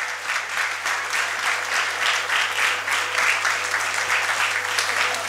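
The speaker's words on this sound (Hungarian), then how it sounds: "nagy tapsot a fesztivál színésznőjének" Sustained applause from a festival audience at a Hungarian student theatre festival awards ceremony, honouring the best actress; steady dense clapping fills the hall for several seconds without pause.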